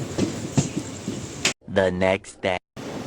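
A passenger train runs through the night after an 11 o'clock departure, its steady rumble and faint wheel clicks filling the first half before a voice begins speaking close by.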